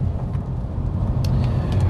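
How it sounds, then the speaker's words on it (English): Steady low road rumble fills the cabin of a Fiat 500 Rockstar driving through stormy weather, a dense continuous roar with no talk. "There is a bit of road noise coming into the cabin, but it isn't deafening"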